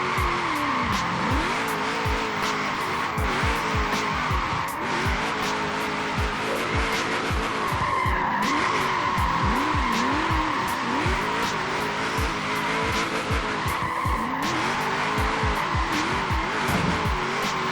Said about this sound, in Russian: Мы раскручиваем двигатель.